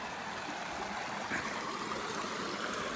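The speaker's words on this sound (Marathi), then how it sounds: "अयो काय स्पीड आहे पाण्याला." A fast-flowing stream at a water crossing on a hill trail rushes in a steady, even broadband roar that stays close and unbroken throughout.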